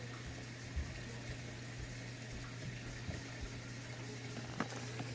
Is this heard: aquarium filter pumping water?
yes